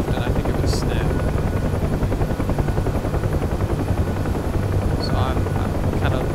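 Rotor of a UH-1H Huey helicopter in the DCS flight simulator, a loud, steady, close thumping drone with a few faint higher tones over it.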